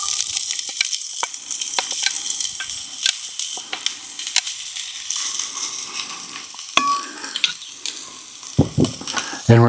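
Medium yellow onion sizzles and crackles in a hot pan, with close, irregular popping and occasional stirring scrapes and clicks.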